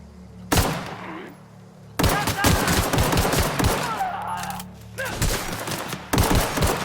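Rapid bursts of gunfire in The Outer Worlds on Xbox One, loud and close, coming in several separate volleys with brief gaps between them.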